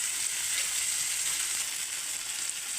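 Chicken liver frying in a pan, giving a steady, bright, hissing sizzle that holds evenly through the whole stretch with no talk.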